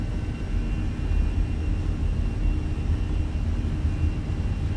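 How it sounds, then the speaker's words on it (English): An Airbus A320's engines run at takeoff power in Microsoft Flight Simulator, giving a steady, loud low roar and rumble with a faint high whine on top, continuous throughout and with no voices. "Takeoff power set."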